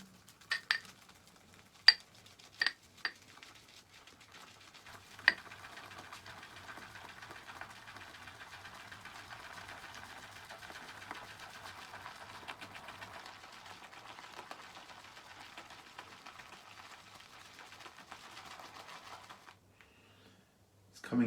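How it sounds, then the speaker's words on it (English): Shaving lather whipped in a bowl with a brush: a steady, soft swishing and scraping that runs continuously for most of the clip after a few sharp clinks at the start, fairly quiet, with no talking. "we mix up the lather."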